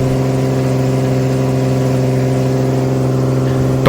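Ford 300 straight-six engine in a 1981 F100 running steadily during break-in at about 2,000 RPM, a loud, even, unbroken drone heard up close with no voices.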